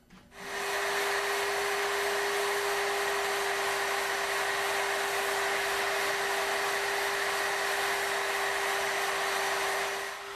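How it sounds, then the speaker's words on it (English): A multi-router cuts through mortises in wooden table legs, a loud, steady high-pitched whine with a constant tone that runs unbroken for about ten seconds after a brief start-up, with no talking. "we're going to go ahead and cut our through mortises and our legs"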